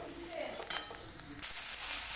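Chopped onion sautés in a pan with oil, giving a soft hiss with a few stirring clinks, then a louder rush of sizzling once the onion is stirred.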